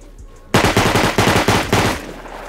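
A custom SMG fires in Rust, one rapid burst of about eight loud, close shots after a brief quiet start.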